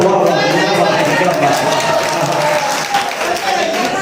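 An audience at an All India Urdu mushaira poetry recital claps steadily, producing a dense, close burst of applause that holds at an even level from start to finish.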